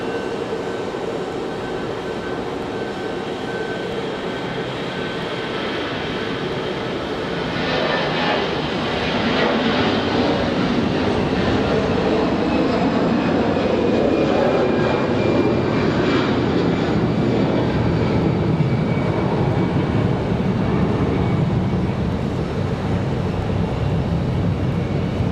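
An American Airlines jet departing Raleigh-Durham for Charlotte roars steadily, a broad loud engine rumble with whining tones that swells after a few seconds and holds, heard from nearby without talk.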